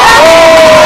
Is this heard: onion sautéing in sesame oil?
no